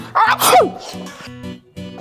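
A single loud, sharp sneeze up close, followed by a brief quiet with a faint low hum.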